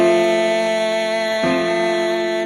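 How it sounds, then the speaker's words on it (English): A sustained triad chord of several pitched notes rings together, steady and full, with a slight change partway through as notes shift. "I'm going to add the 5 so you can hear the whole triad together."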